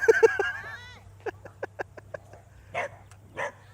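Several dogs bark and yip at a buffalo outdoors, with a rapid burst of sharp yaps and a whine at first, then scattered distant barks at irregular intervals over a low steady hum.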